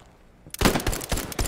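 Video game gunfire in a tactical team shooter: after a short quiet moment, a loud, close burst of rapid shots rattles continuously to the end.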